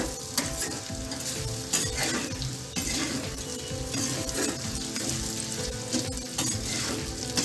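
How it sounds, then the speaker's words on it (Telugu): Sliced bitter gourd frying with chilli powder over a low flame, a dense continuous sizzle with crackling and stirring scrapes, close and fairly loud throughout. "లో ఫ్లేమ్లోనే ఫ్రై చేసుకుందాం అడుగంటకుండా"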